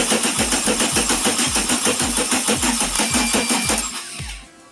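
A Subaru-swapped Sterling Nova kit car engine cranking and catching, rapid rhythmic pulses loud and close for about four seconds before cutting out into quieter rattling.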